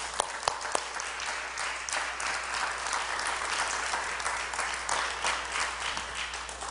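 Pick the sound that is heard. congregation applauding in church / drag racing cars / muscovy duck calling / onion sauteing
congregation applauding in church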